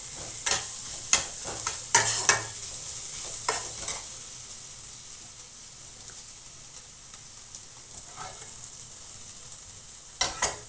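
Onions and broken cashew pieces frying in a pan for a chicken kofta curry, a low steady sizzle with occasional sharp clinks and scrapes of stirring, mostly at the start and end.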